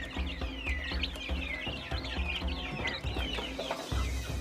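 Several Pelung chickens cluck and chatter continuously at close range, with overlapping calls and no talking.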